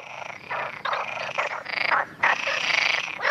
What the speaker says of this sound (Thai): กบทำเสียงร้องคร่ำครวญโดยการเป่าลมออกจากปอดผ่านเส้นเสียง